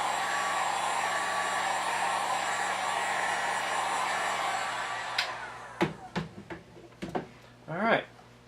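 A hair dryer force-dries paint on a scale model, its steady broadband blowing loud for about five seconds before cutting off, followed by a few sharp clicks and brief handling noises.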